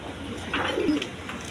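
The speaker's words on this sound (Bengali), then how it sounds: "বন্ধুগণ এখানে এক পেয়ার শার্টিং কবুতর আছে" A pair of pigeons kept for sale gives a brief soft cooing call, close by and alone, with faint background noise around it.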